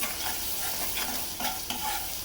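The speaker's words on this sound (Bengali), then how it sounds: "মশলা কষাবো।" Spice paste sizzles and is stirred in a hot pan while a Bengali home cook prepares koi fish with bean seeds and shrimp, giving a steady close-up frying hiss with soft scraping strokes and no talk.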